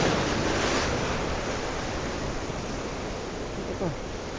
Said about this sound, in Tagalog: Ay, may alon.